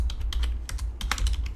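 Quick run of keystrokes on a computer keyboard typing a terminal command, close and crisp clicks in an uneven burst with no voice.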